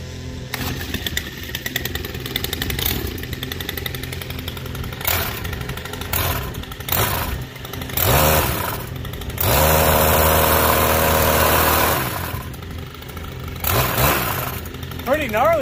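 A Stihl rotary scissors trimmer and edger combo engine running outdoors, loud and close, idling then revving up several times in surges with a sustained high-revving stretch, speech briefly present over it.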